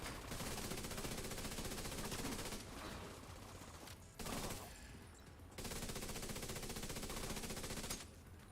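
Sustained automatic gunfire in The Division 2 keeps up in long, loud, dense bursts with brief pauses between them. A constant barrage of rapid shots fills the scene.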